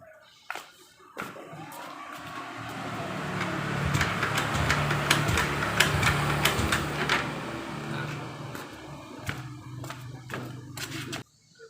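Honda Vario 150 LED scooter with an ignition fault that stalled on the road, started up: a click, then the small engine runs with a steady idle for several seconds before cutting off sharply, recorded up close.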